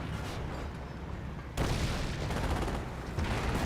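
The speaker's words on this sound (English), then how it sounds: "Even detonates one more landmine before going down" Landmine detonation in Company of Heroes, a sudden heavy blast cutting in midway over dense battlefield gunfire and rumbling explosions, loud and full.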